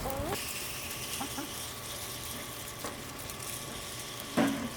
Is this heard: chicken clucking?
yes